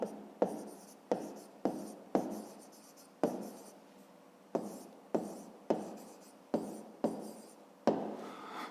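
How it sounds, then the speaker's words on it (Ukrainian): Pen on paper as an answer is written out by hand, a quiet close series of short scratchy strokes, each starting sharply and fading, with small pauses between them and no talking. "Ну а тепер записуємо відповідь."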